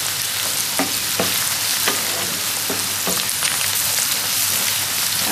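Crab masala fries and is stirred in a pan, a loud continuous hissing sizzle with faint periodic taps of the spoon against the metal, close and unbroken.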